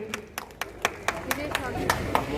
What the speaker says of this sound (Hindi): कृपया तालियां